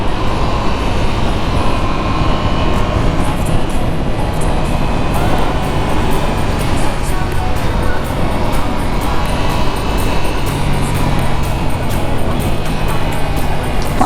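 A motorcycle is ridden, with a steady, loud engine drone and heavy wind rush that continue without a break.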